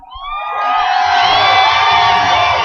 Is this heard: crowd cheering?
yes